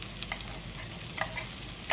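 Onion and ginger sizzle in hot oil for dinuguan, a soft steady frying hiss with a few brief scraping stirs of a spatula in the pan, fairly quiet and close, with no talking.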